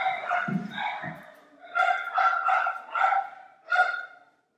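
Several dogs bark in a burst of loud, close yips and woofs, with a few spaced barks repeating over a couple of seconds after a short lull with a voice in it.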